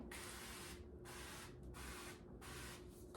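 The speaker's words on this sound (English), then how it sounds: "So we're gonna spray." Several bursts of hissing aerosol cooking spray, close and fairly loud, in quick succession with brief gaps between them, onto a pizzelle iron.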